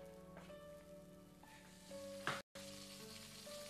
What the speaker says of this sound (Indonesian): goreng ayamnya jangan kelamaan, ntar gosong